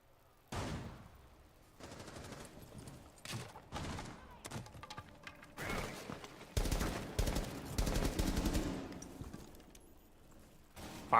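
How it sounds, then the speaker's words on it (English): Gunfire from a Rainbow Six Siege match, a series of sharp shots and short bursts at irregular intervals, some close and loud, others duller, set against game ambience and movement sounds. "Firing the gunshots there to try to disguise the repel noise"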